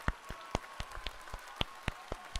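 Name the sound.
audience round of applause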